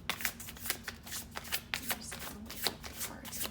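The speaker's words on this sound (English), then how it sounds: "I'll wake up the cards a little bit here." Tarot cards shuffled by hand in a steady, soft riffle of rapid flicks and slides, close up and fairly quiet, with no talking.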